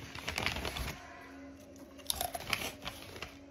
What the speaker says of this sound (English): Can you not chew so loud?